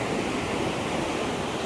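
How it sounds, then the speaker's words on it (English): Ocean waves breaking on the beach at Manhattan and Hermosa, a steady, loud, broadband wash of surf with no breaks or voices. "I find the sounds of the waves very soothing"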